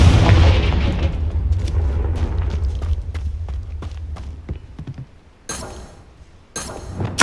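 A Confringo blasting spell from Hogwarts Legacy on Xbox Series S detonates with a loud, booming blast that rumbles away, followed by two sharper bursts near the end.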